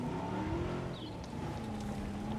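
A truck drives through a Jurassic World Evolution park by a beach, its engine a steady continuous drone with a faint pitch shift partway through, loud and close under game background sound.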